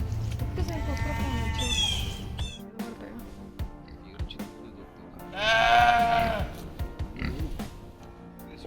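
Goats in a village bleating twice, a short bleat early and a louder drawn-out one later, with people talking over the rural background.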